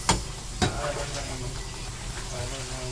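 Santol Bicol express sizzling in a pan as it is stirred, with two sharp scraping knocks at the start followed by a steady low crackle of frying.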